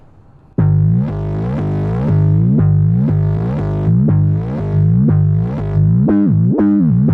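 An Arturia Synthi V synthesizer plays a pulsing, buzzy sequence of repeated bright notes with a reverb effect and a tweaky, ring-modulated edge, loud and alone, rising and falling in a choppy rhythm.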